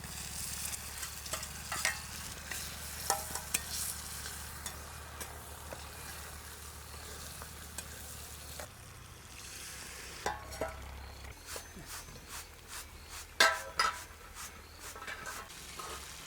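Tomatoes go into a frying chole masala with coriander powder and garam masala and get stirred, a quiet steady sizzle broken by scraping spatula strokes and occasional sharper clatters, no speech.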